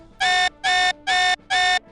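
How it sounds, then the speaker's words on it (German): A game alarm tone in the strategy game Rise of Nations warns of incoming missiles: four identical harsh electronic beeps in an even, rapid rhythm, loud and alone. "Da ertönt ein aggressiver Alarmton."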